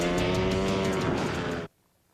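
Flat track motorcycles racing at the Springfield Mile, a loud, dense engine roar with layered rising and falling tones as several bikes run close together, cutting off abruptly near the end.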